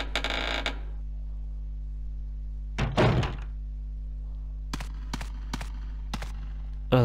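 A door opens in the video game Resident Evil Code Veronica X, with a heavy creaking thunk followed by a series of sharp mechanical clunks, close and distinct over a low steady hum, with no talking.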